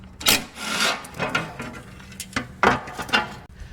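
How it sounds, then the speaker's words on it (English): Plastic A-arm skid plate being worked off a Yamaha Wolverine X2 1000 side-by-side, close scraping and rubbing bursts with brief knocks, uneven and intermittent. "take this A-arm skid off so that I can get to the shock bolt"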